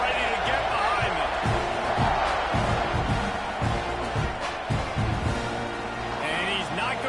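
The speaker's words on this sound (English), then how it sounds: "this crowd now ready to get behind them" A stadium crowd in a football video game roars in a broad, steady wash at kickoff, with a play-by-play commentator talking over it and a few sharp thumps.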